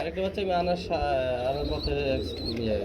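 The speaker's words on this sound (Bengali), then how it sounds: "ওই যে দেখেন বন্ধুরা, বাবা কবুতরটা বাচ্চাকে খাওয়াচ্ছে" Soft pigeon coos repeat close by in a loft as a parent pigeon feeds its chick, with a voice murmuring underneath.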